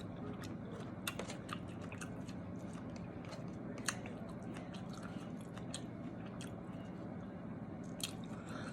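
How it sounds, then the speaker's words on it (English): Close, quiet chewing of firm vegan mushrooms, with soft wet squishes and small crunchy bites repeating steadily throughout and no talking. "The mushrooms, it still got like a little crunch to it."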